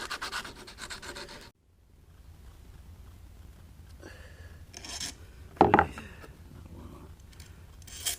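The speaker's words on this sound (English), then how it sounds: "Take that burr off, give it a quick sand, so there's no raggy edges on it" Quick hand sanding of a burred edge on a modified bait pump part, soft irregular rubbing strokes, close and fairly quiet, with a brief sharper scratch midway.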